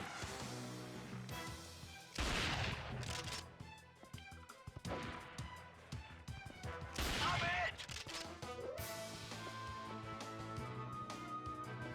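Rapid gunfire in the video game 007 Nightfire, with dense bursts of shots and crashing impacts over a continuous game soundtrack, loud and close, with someone talking at times.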